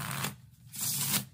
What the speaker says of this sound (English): the spectator can go ahead and shuffle up the cards